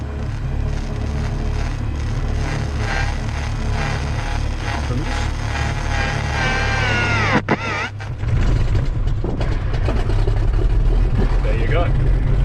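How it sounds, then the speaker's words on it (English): A Piper Arrow with a turbo conversion cranks and starts, its piston engine thrumming in a steady pulsing rhythm before a sharp change as it catches and runs rougher and louder; people talk over it throughout. "It's going to take a little while for us to get the engine going."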